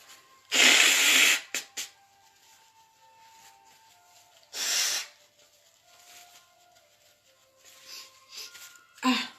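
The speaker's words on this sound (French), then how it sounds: "faut que je me mouche" Someone blows their nose during a live makeup broadcast: two loud, breathy honking bursts with quieter sniffles and rustling between them, close to the microphone.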